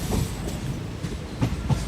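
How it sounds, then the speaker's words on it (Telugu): A train pulls into Sattenapalli station on the Guntur–Secunderabad line, its wheels clacking over rail joints in an uneven rhythm under a low rumble, close by. "ట్రైన్ సత్తెనపల్లి స్టేషన్కి చేరుకుంది."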